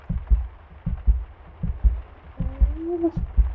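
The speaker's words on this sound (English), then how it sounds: "Listen to your little heartbeat." Slow, steady heartbeat thumps in a video game, deep and muffled, repeating in a regular double-beat rhythm with a faint tone sliding in near the end.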